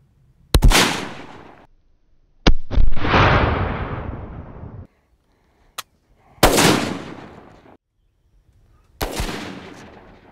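Rifle shots fired during a deer hunt ring out as several loud, sharp cracks, each trailing into a long rolling echo, spaced a few seconds apart with quiet gaps and a faint click between them.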